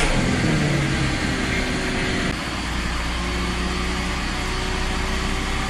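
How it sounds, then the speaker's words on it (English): A car engine runs during a mass air flow (MAF) sensor test, holding a steady, fairly loud hum with a slight dip in pitch partway through and no voices. "So we're gonna start the vehicle now"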